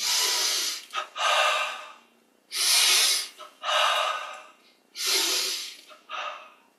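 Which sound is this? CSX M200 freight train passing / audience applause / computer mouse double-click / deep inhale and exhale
deep inhale and exhale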